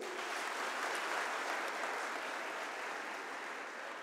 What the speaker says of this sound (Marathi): एकदा जोरदार टाळ्या होत्या ताईसाठी.